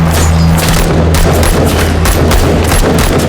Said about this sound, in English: despite the guards firing warning shots, Dante doesn't stop and accelerates full throttle towards the gate.